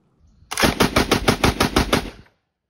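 An FN Model D rifle, a Luxembourg contract gun in .30-06, fires one loud, close burst of about nine rapid automatic shots in a steady rhythm, then it stops, with no talking.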